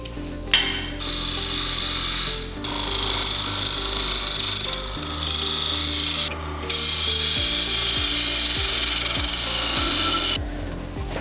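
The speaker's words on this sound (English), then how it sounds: "we're going to put a tenon on each end and get this into the chuck so we can part off the base section of the box" Wood turning on a lathe as a tenon is cut on a wooden Easter egg box, a continuous close, loud scraping and rasping of the tool against the spinning wood with a steady low hum underneath, briefly broken by a few short pauses.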